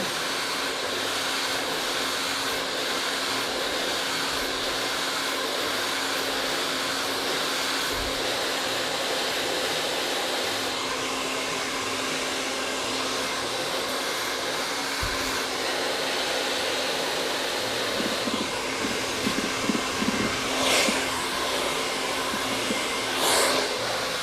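A hair dryer fitted with a nozzle runs steadily and close while blow-drying curly hair, a continuous airy roar with slight wavering and brief rustles near the end as the hair is handled.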